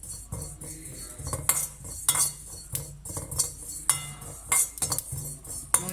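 Cumin and fennel seeds dry-roasting in a pan without oil, with a utensil clinking and scraping against the pan in irregular taps and stirs.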